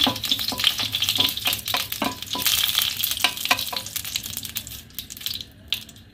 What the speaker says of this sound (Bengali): প্রথমে আমি একটা শুকনো লঙ্কা আর তেজপাতা ছিঁড়ে ফোড়ন দিয়ে দেবো।